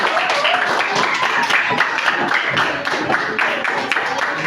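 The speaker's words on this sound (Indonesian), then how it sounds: "beri tepuk tangan untuk Dimas" Classroom audience clapping for a student: dense, continuous applause from a group of people, close and fairly loud throughout, with scattered sharper individual claps.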